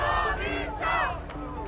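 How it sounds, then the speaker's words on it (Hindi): Large crowd of protesters in Iran chanting slogans in unison near a governor's building, a loud, dense roar of many voices rising and falling in rhythmic shouts. "प्रदर्शनकारी यहां रजा पहलवी नाम के नारे लगा रहे हैं"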